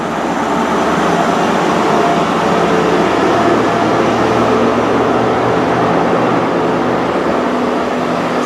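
A Great Western Railway service from Oxford to London Paddington pulls out of Reading station, giving a loud, continuous rumble and engine drone close by for the whole span.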